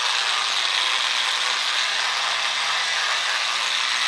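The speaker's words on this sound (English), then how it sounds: "we're on the 1500 grit pad right now" Granite countertop being polished with a 1500 grit pad on a power polisher, a continuous loud hissing whir that stays even throughout, close up and without talk.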